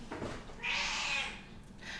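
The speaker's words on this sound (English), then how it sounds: "my little kitty cat." A pet kitty cat gives one drawn-out, fairly close meow in the middle of the moment, with a quiet room and faint noise around it.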